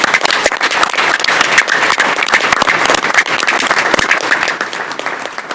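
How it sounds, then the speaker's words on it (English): Loud, dense round of applause for a scout troop at a city council meeting, many hands clapping continuously and close for several seconds without pause. "Let's give Troop 1134 a round of applause"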